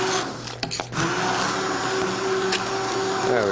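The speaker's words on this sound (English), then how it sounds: "So now I just take my little immersion blender, we call this, put it into the soup" Immersion blender pureeing soup in a home kitchen, a steady loud motor whine running throughout with brief surges and dips in pitch as the blade works through the liquid.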